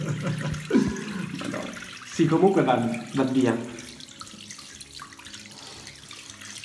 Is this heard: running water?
yes